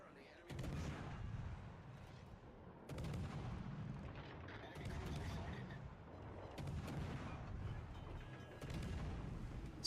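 Naval guns in a warship video game fire on an enemy ship, heavy booming salvos landing every couple of seconds. A game voice and a player talk between the shots.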